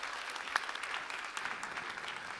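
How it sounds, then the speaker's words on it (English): Audience applause at a deep tech conference event, a steady wash of clapping from a crowd lasting a few seconds at moderate level, with no speech over it. "A round of applause."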